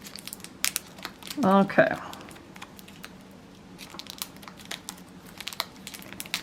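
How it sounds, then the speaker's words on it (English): A plastic bag of fruit and veggie potting soil is torn open and handled, with crinkling and a short burst of crumpling, plus scattered rustles and a brief spoken word. "Let's start by opening our soil."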